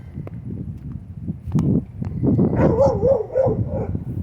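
A nearby dog gives a few short barks followed by a drawn-out whining yelp, with light scuffing sounds in the background.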